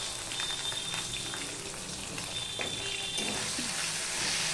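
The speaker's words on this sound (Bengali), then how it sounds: "আদাটাকে এবার লাল লাল করে ভেজে নেব।" Ginger paste and green chillies fry in hot oil for a vegetable jhol, a close, steady hiss with scattered crackles and spits running throughout.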